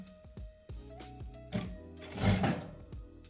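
A Jack A4C industrial sewing machine runs an automatic 15-stitch seam, giving a rapid series of close mechanical thumps and clicks that builds to a louder whirring burst before stopping.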